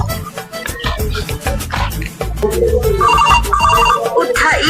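A mobile phone rings with a melodic electronic ringtone, loud and close, rising over clattery background noise from a construction-work scene.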